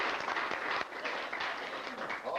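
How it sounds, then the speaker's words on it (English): A room of people at a university class reunion gathering applauds for a man named Eddie, a short, steady burst of clapping filling the space for a couple of seconds. "Give Eddie a big round of applause."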